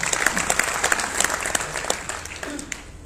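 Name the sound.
audience applause at a Hindi comedy poetry gathering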